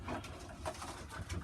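Pigeons coo softly in a loft, a few low burbling calls that are faint and close, with no talking.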